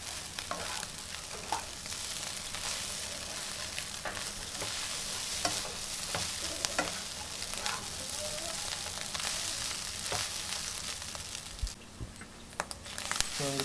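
Noodles and fried chicken are stir-fried together for spicy garlic chicken noodles, producing a loud, continuous sizzle with frequent scraping and tossing clatters as the mix is stirred.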